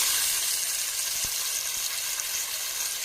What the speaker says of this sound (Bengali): তারপর আস্তে আস্তে মাছগুলোকে এবার একটু ভাজবো।